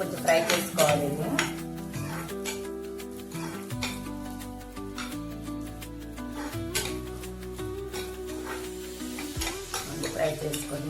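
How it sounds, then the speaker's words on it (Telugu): Roasted split chickpeas fry in a pan for a coconut chutney, a soft sizzle with occasional utensil clinks and stirring, set beneath prominent background music. "అయినా సరే దీంట్లో కొంచెం ఫ్రై చేసుకోవాలి"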